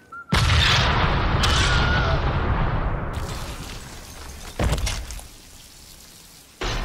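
A huge C4 blast in the Deadpool video game hits suddenly with a loud booming roar, then a long crackling, rain-like debris tail, followed by a second smaller thud and a late burst.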